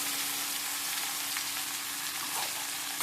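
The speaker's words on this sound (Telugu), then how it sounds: "ఇట్లాగా నూనెలో బాగా ఇవి వేగాలి" Radish pieces fry in oil with a steady, dense sizzle that holds evenly throughout, close by and without speech.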